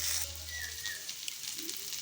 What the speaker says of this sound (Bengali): এই যে সবজিটা তুলে দিলাম কড়াইতে, তেল পেঁয়াজ লঙ্কা দিয়ে সবজিটাকে আমি তুলে দিলাম